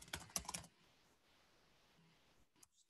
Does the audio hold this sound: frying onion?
no